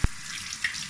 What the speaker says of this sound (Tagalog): Tapos, hugasan pa natin ng konti.